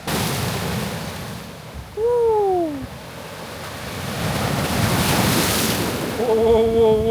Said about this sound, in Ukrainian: Отакий океанчик. Як я радий тебе бачити, океане, як ти класно пахнеш.